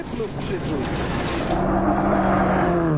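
A two-wheel drive rally car races over loose gravel, its engine whining and revving upward as it climbs, loud and close, with a commentator speaking over it.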